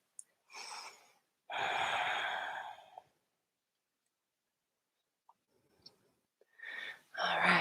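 Deep yoga breathing, with two long, close, audible breaths separated by a quiet pause and another breath beginning at the end.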